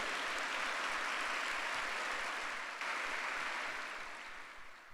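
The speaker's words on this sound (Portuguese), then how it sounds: "dá um aplauso aí ao Senhor Jesus" Church congregation applauding during a Sunday service, a steady dense wash of clapping held for the whole stretch at moderate, somewhat distant level, slowly easing toward the end with no talk over it.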